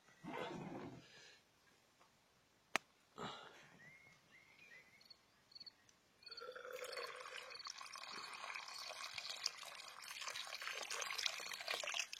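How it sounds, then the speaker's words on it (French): Water poured into a pot of soup being reheated, a liquid splash and fill that starts after a few quiet seconds of kitchen handling sounds and runs steadily to the end. "Je vais rajouter un peu d'eau dedans."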